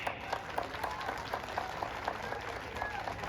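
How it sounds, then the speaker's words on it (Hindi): Women in a crowd at a village political rally clap along, a faint, distant, fairly regular patter of hands heard against a hazy open-air background. "मेरी महिलाएं तो ताली बजा रही हैं"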